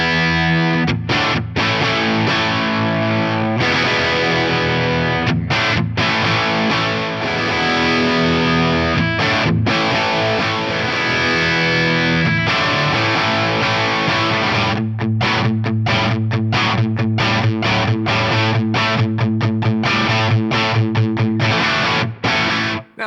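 Distorted electric guitar through a Marshall-style amp plays repeated riffs with chopped pauses, cycling through bright cap values of 500, 1000 and 5000, loud and crunchy without any voice.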